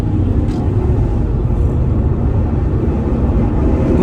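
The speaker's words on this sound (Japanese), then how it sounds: "ちょっと加速します" A Nissan President VIP luxury sedan accelerating, a steady, loud low engine rumble with road noise heard from inside the cabin, constant throughout without talking.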